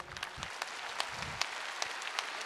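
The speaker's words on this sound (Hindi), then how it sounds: "सब ताली बजाएंगे" Audience clapping at a Republic Day celebration at a school, scattered claps over steady crowd noise with a few sharper hand strikes standing out, fairly faint and continuous.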